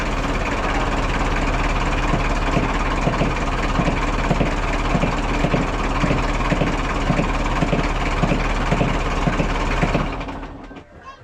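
A Mazda RF diesel engine runs at a steady idle during a start-up test, a loud continuous rumble with a regular knocking pulse that carries on evenly before cutting off near the end.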